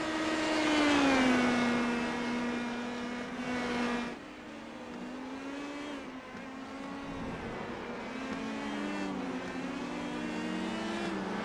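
Race cars at Indianapolis in an IndyCar racing game drone past with steady engine tones that rise and fall in pitch, several cars overlapping in a loud continuous wash, no voices.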